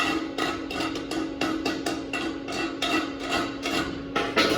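Wire brush scrubbing slag off a 6010 stick weld on a 2G butt joint: rapid repeated scraping strokes, close and fairly loud, over a steady hum, with no talk.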